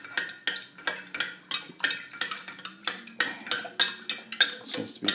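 Water being stirred in a container, with a regular rhythm of clinking, scraping strokes, about three per second, close and fairly loud with no voices over it.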